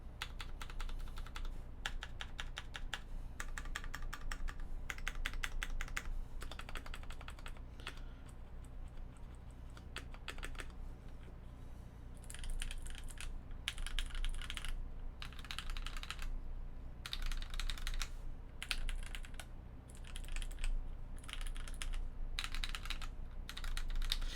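Continuous typing on a KBD19x mechanical keyboard fitted with stabilizers and GMK Minimal keycaps, a close, steady stream of clacking keystrokes with short pauses between bursts and no talking.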